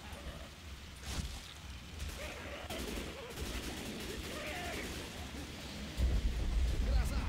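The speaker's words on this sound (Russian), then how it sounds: "Гроза!" Thunderstorm in the Left 4 Dead 2 video game: steady rain hiss with rolling rumbles and sharp booming cracks, a louder thunder burst near the end, alongside game noise.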